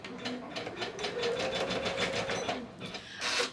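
An embroidery machine stitches a quilt design, its needle running in a fast, steady mechanical chatter heard close up, with a faint whine beneath and a brief surge near the end.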